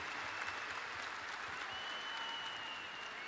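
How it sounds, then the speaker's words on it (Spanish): A large arena concert audience delivers a dense, sustained ovation of clapping, steady and wash-like at a moderate distance, with a faint tone threading through the noise. "esta ovación y este aplauso para este gran artista chileno"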